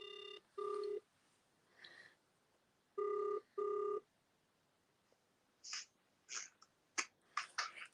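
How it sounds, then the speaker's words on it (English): Outgoing phone call ringing, with two pairs of electronic ring tones in a steady pattern, followed by scattered clicks and short faint noises. "Now, I'm ringing Alan Mullally"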